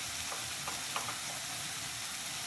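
Onions and spices frying in a pan for a Bengali tal koi fish curry, a steady close sizzle with faint stirring scrapes, no voices.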